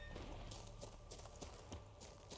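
Horses gallop alongside Geralt in The Witcher 3, a steady run of soft hoof clip-clops that stays fairly quiet and even under the game's background ambience.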